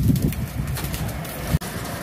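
Large breeder pigeons, golden birds from a Mian Nazir bloodline, coo in low soft repeated calls nearby, with light wind noise around them.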